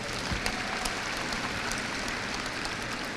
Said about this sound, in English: A round of applause for the graduates.